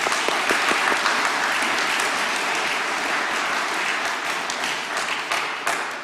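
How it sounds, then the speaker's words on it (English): At a Sunday Mass, the congregation gives a loud, dense round of applause for a parishioner. Many hands clap continuously for several seconds, with no talking over it. "Just give him a round of applause"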